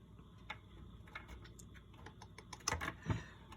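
Rotary selector switch on an old analog multimeter clicking through positions, a few sharp, close clicks scattered irregularly, loudest near the end, over a faint background hum.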